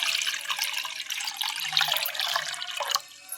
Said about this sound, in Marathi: आपण एका पातेल्यात पाणी ओतूयात आणि याच्याने आपण पोहे धुवून घेऊयात